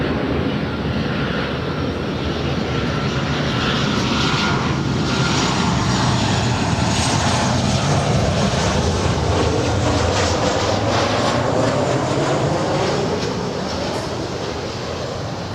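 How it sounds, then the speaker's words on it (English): Southwest Airlines Boeing 737-700 airliner at LAX, a steady, loud broadband jet roar that rises and swells over the full stretch as the plane moves past, with no voices over it. "this is Southwest 457 from San Jose, California. 737-700."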